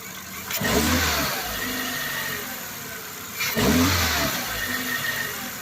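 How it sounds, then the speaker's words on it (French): A Seat Leon car engine revs up twice, each burst of throttle rising then settling back toward idle, loud and close with no speech. "On va faire une petite accélération."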